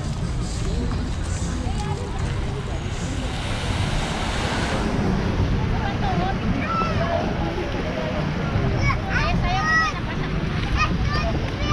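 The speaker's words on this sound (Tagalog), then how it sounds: "ramdam na ramdam na talaga kasi may alon" Sea waves wash onto the shore of Manila Bay in the morning, a continuous rushing surge with wind buffeting the microphone while people talk nearby.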